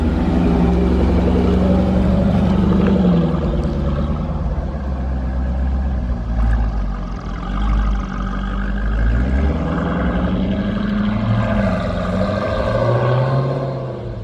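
A car with newly installed Demon Performance two-piece brake rotors pulls away to begin the brake bedding procedure, a steady loud engine rumble and road drone that shifts in tone as it drives off, with no talk.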